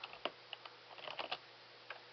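Someone types a folder name on a computer keyboard: a quiet, uneven run of soft key taps, with a short burst of clicks in the middle over a faint steady hum.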